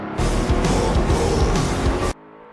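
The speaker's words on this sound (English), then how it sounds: "On the straights, the Pagani flies without straining the engine." A Pagani road car at full throttle on a race track: a loud, dense engine roar with rapid rising revs and gear changes lasts about two seconds, then cuts off abruptly into quiet.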